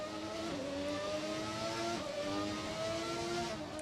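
Ferrari Formula 1 car on the historic Monaco street circuit in a racing video game: a steady, high-pitched engine whine holding near and loud with slight pitch shifts as it accelerates, with no talk.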